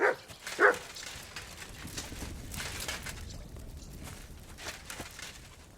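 A dog in the video game Kingdom Come Deliverance 2 gives two short, sharp barks right at the start, followed by quiet ambient background.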